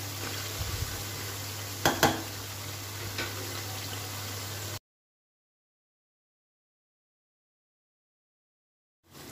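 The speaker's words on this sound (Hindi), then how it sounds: "स्पाइसेस को हम भून लेंगे 5 मिनट।" Spices frying for a Peshawari Shinwari beef karahi sizzle steadily in a pot with a couple of stirring scrapes, close and moderately loud, before the sound cuts to silence.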